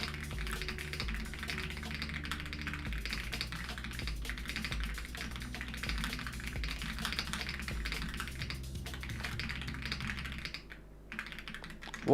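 Continuous rapid clicking of keys on a computer keyboard, close and steady with uneven bursts of keystrokes, and no voices.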